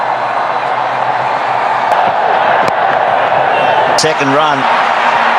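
Dense stadium crowd noise at a cricket Test match between India and Australia, a steady loud roar of cheering with a couple of sharp claps, while a commentator speaks briefly near the end.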